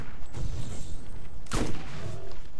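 A single sharp sniper rifle shot in the video game Borderlands cracks out over steady game ambience, one loud isolated blast with a brief decay.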